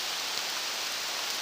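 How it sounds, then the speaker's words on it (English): Heavy rain falls on a mountain bike trail at Lake Lurleen as a dense, even hiss. It stays constant and close across the whole moment, with no voices. "It's raining."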